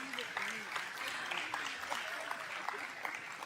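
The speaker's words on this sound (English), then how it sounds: "let's give them another big round of applause as she's leaving." Audience in a hall gives an award recipient another round of applause as she leaves, steady dense clapping throughout, moderately loud with no talk over it.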